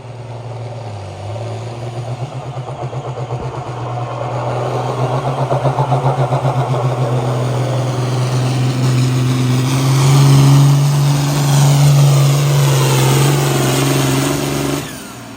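A competition pulling tractor revs loudly and continuously at an East Central Iowa Tractor Pullers event during Catfish Days in Potosi, Wisconsin, its deep engine drone rising and building in intensity before cutting off near the end.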